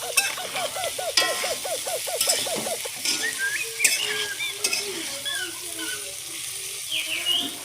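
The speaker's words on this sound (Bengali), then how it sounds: "তো আমি চানাটা ভালো করে ভেজে নিচ্ছি।" Chickpeas with spices stirred and fried in a wok, giving steady close sizzling with repeated scraping and stirring strokes throughout.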